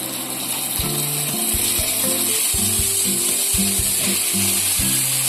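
Ginger fries in a pan with curry leaves for gongura chicken curry, a steady bright sizzle running throughout beneath a louder stepping melodic tone pattern.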